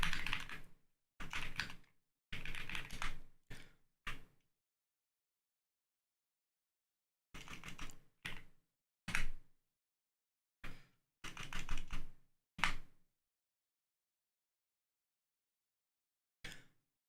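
Typing on a custom-built mechanical keyboard with purple switches: close, distinct bursts of rapid key clicks in short runs, separated by silent pauses.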